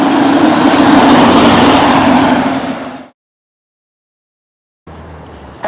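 A Hummer's loud engine and road roar fill the cabin for about three seconds, then cut abruptly to silence before a quieter burst of noise returns.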